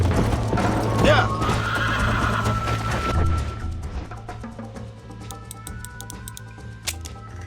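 Horse in the Red Dead Redemption game galloping with rhythmic hoofbeats and a loud neigh near the start, with a voice calling out over the ride and game sounds.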